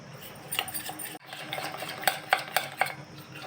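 Maida flour being stirred together with ghee in a bowl, a spoon scraping and clinking against the sides in short, close, irregular strokes that grow sharper toward the end.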